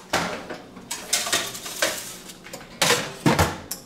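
A pan holding miso-marinated Chilean sea bass going into the oven, with a run of sharp metallic clanks and knocks as the pan and oven rack are handled, close and fairly loud, with no talking.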